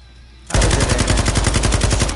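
Rapid automatic gunfire from the video game Call of Duty Warzone erupts after a brief quiet start, a loud, dense stream of evenly spaced shots that runs without a break to the end.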